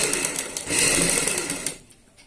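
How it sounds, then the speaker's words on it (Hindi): A sewing machine stitches a half-inch seam on a jacket-style party wear kurti, running steadily and loud and close for nearly two seconds before cutting out, with no voices. "इसको हम स्टिच कर लेते हैं एक साइड से आधा इंच की सिलाई में।"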